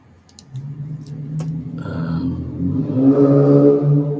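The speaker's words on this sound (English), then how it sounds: "Noisy car going by." A car engine approaches and passes close by, its rumble rising and growing louder, with a few light clicks near the start.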